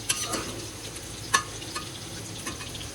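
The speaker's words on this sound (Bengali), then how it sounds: "এদিকে আলুটা ভেজে নিচ্ছে" Potatoes fry in a pan, a soft steady sizzle at moderate distance with a few brief clinks of stirring scattered through.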